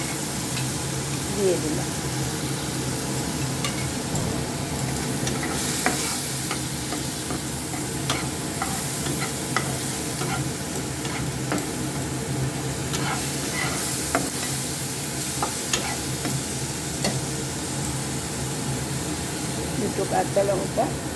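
A chili and turmeric paste fries in a pan with a steady sizzle, broken by frequent scraping and clicking from a stirring spoon, while someone talks over it now and then.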